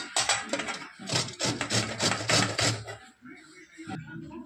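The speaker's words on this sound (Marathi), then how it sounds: "हे बघा अशा पद्धतीने मी कारला किसून घेतलं।" Bitter gourd is grated finely on a hand grater, rapid rhythmic rasping strokes, loud and close, in a run of scrapes that slows and pauses toward the end.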